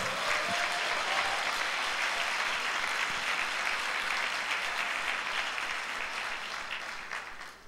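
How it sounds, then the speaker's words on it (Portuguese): A church congregation claps together in a broad, continuous round of applause, fairly loud and steady before tapering off slightly in the final second. "Dá um aplauso para Jesus aí"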